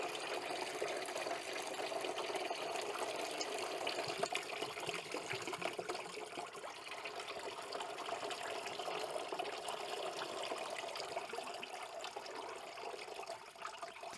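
Cleaning liquid trickling and pouring out of the PCV system of a Renault Clio's rocker cover, a faint continuous watery dribble with no talking, low in level throughout.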